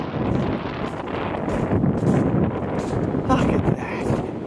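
Strong wind gusts roar through an ice storm, steady broadband rushing with buffeting surges close to the microphone and no pauses.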